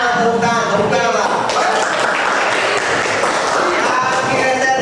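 A classroom or school hall audience claps together on request, a steady wash of applause lasting several seconds, loud and close, with voices mixed in underneath.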